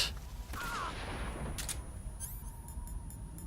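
A gun fires in Metal Gear Solid 3 with a couple of quick, fairly faint shot bursts near the start, then lighter clicks and metallic ticks trailing off.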